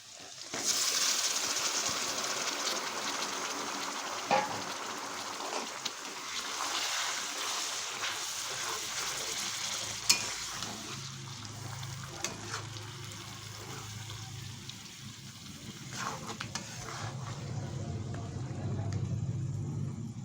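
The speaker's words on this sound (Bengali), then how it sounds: "এবার এর মধ্যে আমি দিয়ে দিচ্ছি ম্যারিনেট করা চিকেনটা" Marinated chicken hits a pan of fried onions and sizzles steadily, with clanking stirs and spatula scrapes over a constant frying hiss, close up and fairly quiet.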